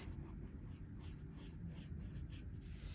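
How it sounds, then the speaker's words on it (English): A marker tip scratches steadily across a journal page in short repeated strokes, quiet and close, over a low background rumble. "And then I can just turn it over and write."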